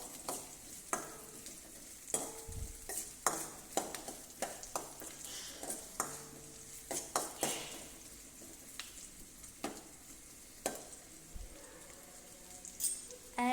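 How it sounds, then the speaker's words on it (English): Chopped onion and mustard seeds fry in a pan, with a soft crackling sizzle broken by frequent sharp pops and stirring clatter, close but fairly quiet, with no voices. "Add a onion and fry it well."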